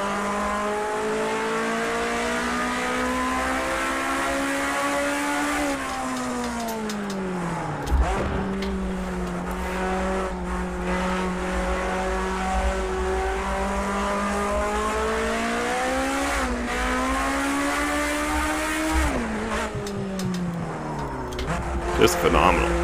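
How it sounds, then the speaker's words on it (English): Race car engine in the Project CARS 2 video game revs high and steady, dipping and climbing through gear changes in repeated sweeping pitch rises, loud and close throughout. "let's take a listen to this engine sound here"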